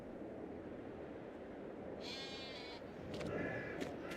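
Sheep in Farming Simulator 22 bleating faintly over a steady low background hum, a couple of brief distant bleats in the second half.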